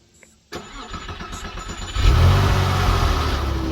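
Key-turn start of a cheap Porsche 911 that may have a head gasket issue: a short starter crank breaks into a loud, rough catch, then the engine settles into a steady, strong idle close by.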